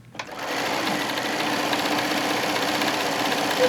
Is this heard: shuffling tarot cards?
no